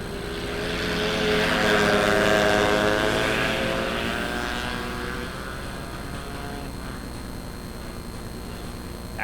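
Dirt track race cars at Lebanon Midway Speedway roar past in a loud pack, the engine drone swelling to a peak and then fading as they run down the front stretch into the turns, with no talk.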